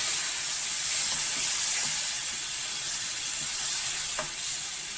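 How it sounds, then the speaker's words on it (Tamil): Mashed tomatoes hit a pan of roasted masala for a Tamil avarakkai poondu kuzhambu, giving a steady, close sizzle and hiss that softens slightly, with a few faint stirring clicks. "இந்த மசாலாலாம் நல்லா வறுபட்ட உடனே ஒரு 2 தக்காளியை நம்ம நல்லா மேஷ் பண்ணி வச்சுருக்கோம்"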